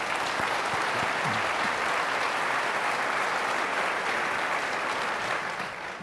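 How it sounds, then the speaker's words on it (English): An audience at a Republican primary gubernatorial debate claps in a dense, sustained round of applause that fills the room evenly and tapers off slightly at the end. "Applaud for that."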